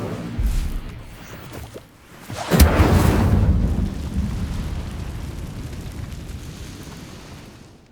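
An Incendio fire spell is cast in Hogwarts Legacy: a loud whooshing burst of flame erupts about midway and rumbles, then slowly fades, with a softer earlier thump before it.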